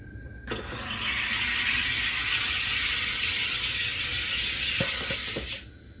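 A SodaStream machine carbonates water with a steady, loud hiss lasting several seconds, bracketed by short clicks and a brief sharp burst near the end.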